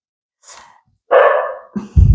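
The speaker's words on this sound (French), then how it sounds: "vous inquiétez pas, c'est mon chien, il va se calmer" A pet dog in a room barks sharply and close by, giving a few loud barks with breathy sounds in between, the last bark rough and heavy.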